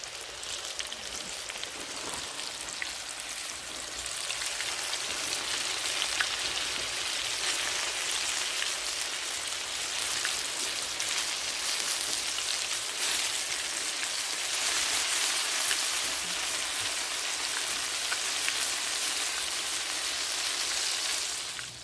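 Pickerel fillets, coated, frying in a pan with a steady, dense crackling sizzle throughout, close and even in level, with no talk.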